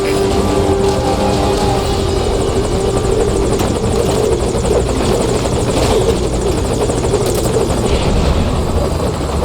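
Steady, loud rotor chop and engine drone from a hovering helicopter in Metal Gear Solid V: Ground Zeroes, holding constant throughout with no voices over it.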